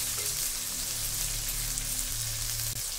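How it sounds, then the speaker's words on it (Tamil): Green turkey berries with turmeric powder sauté in a hot pan, a constant close sizzle and crackle holding steady, alone without talking. "இது நல்லா வதங்கட்டும்."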